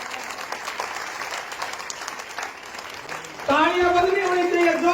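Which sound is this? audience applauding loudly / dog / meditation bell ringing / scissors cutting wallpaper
audience applauding loudly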